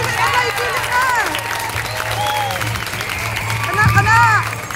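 A crowd at a family party claps and cheers after a child's singing, mixing with lively chatter and shouting voices throughout.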